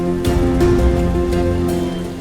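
Heavy rain falling steadily, a dense continuous hiss with occasional louder gusts, loud and close, with no talk.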